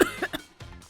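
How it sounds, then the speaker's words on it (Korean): Persistent cough from a cold: three or four harsh, close coughs in quick succession, each a short burst, with no talk. "기침이 멈추질 않네."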